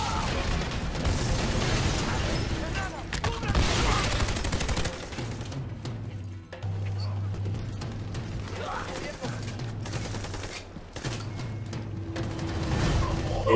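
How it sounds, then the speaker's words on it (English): AK-47 rifle fire in a video game, with dense bursts of automatic shots and loud mechanical clatter running almost continuously, broken by short pauses, and a voice talking over the action. "the gun I'm using right now is the AK-47 I bought this not so long ago"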